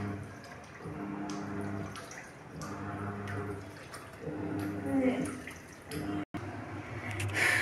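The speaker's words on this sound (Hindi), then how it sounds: "मशीन को ऑन करूंगी और फिर इसको हम स्टार्ट कर देंगे। ले कर दिया, अभी इसमें पानी जा रहा है" Water runs into a washing machine as it fills, a steady close rushing and splashing that continues throughout, with a brief dropout near the end.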